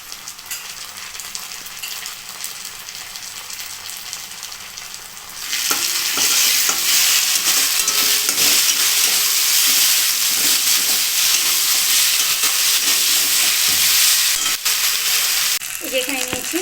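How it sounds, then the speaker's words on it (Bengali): Onions fry in hot oil with cumin, ginger, green chili and garlic paste, giving a continuous sizzle and hiss that grows sharply louder partway through, with stirring scrapes throughout. "পেঁয়াজগুলো আমি ভালো করে ভেজে নেব নাড়াচাড়া করে।"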